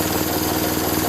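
Tecumseh 6.5HP go-kart engine idling steadily, a continuous buzzing small-engine drone with slight rhythmic pulsing, close and fairly loud, with no voices.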